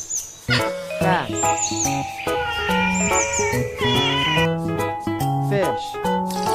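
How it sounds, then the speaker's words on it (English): A cat meows repeatedly in short, clear, tonal calls with sliding pitch, close and prominent over a bright musical background, with some chirpy bird-like notes mixed in. "Cat."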